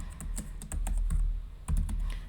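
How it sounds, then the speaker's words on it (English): Keys clatter on a computer keyboard in bursts of irregular taps, close and fairly quiet, with short pauses between runs while someone types text into a page. "So I can start typing."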